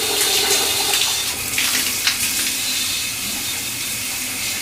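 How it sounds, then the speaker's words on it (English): Warm tap water runs from a faucet through a trombone being cleaned, a steady close hiss and splash of flowing water that carries on alone throughout. "get the water going through it"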